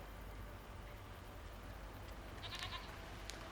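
Goats bleat in a post-apocalyptic video game world, a couple of faint, short bleats rising near the end over a soft hiss of ambient game sound.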